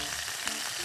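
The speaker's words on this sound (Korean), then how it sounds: "지금 지글합니다." Chicken pieces frying in a pan with a steady, close sizzle and crackle, brief and unbroken, with no talking.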